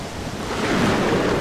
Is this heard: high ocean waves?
yes